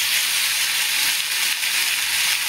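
Onion and beans frying with turmeric in a pan give off a steady, loud, dense sizzle that holds unbroken from start to finish, with no voices over it.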